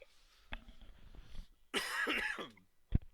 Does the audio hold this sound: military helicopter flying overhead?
no